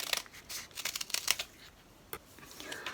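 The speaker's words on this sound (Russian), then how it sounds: "Обрисовываю и вырезаю." Scissors snip through old denim jeans fabric while cutting out a circle, giving a series of crisp, close cuts in uneven clusters, with a few quieter gaps between them.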